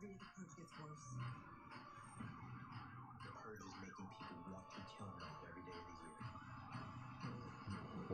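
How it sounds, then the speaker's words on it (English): An ambulance siren passing outside, wailing faintly in the background beneath steady talking. "Loud ambulance coming by."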